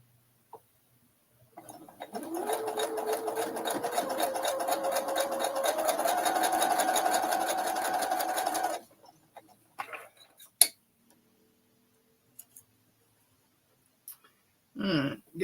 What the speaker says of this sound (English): I'm just sewing them all one right after the other.